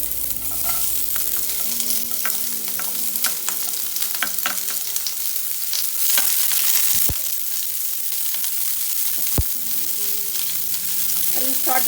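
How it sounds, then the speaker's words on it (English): Onions sauté in oil in a pan on high flame, making a dense continuous sizzle with frequent clicks and scrapes of stirring and a few sharp knocks, close by and without talk. "Saute this for some time, and then I'll add the brinjal."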